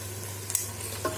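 Chicken curry being stirred in a pan with ground roasted coconut masala and a splash of water, giving a couple of brief, soft scraping and sizzling touches over a low steady hum, with no one talking.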